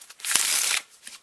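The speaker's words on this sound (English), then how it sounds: "We can do a riffle shuffle" A cheap deck of playing cards gets a single riffle shuffle, a close, loud, fluttering burst of rapid card slaps lasting about half a second, with faint card handling on either side.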